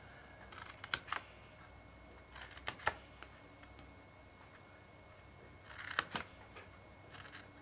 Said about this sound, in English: You're going to cut along each of those 6 score lines at the bottom